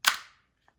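An Action Army AAP01 airsoft pistol slide snaps closed with a single sharp, close metallic clack that decays quickly, followed by two tiny faint clicks.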